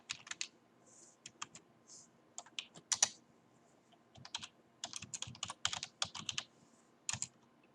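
Typing on a computer keyboard while writing an email, quick clusters of crisp key clicks with short pauses between bursts, close and fairly quiet.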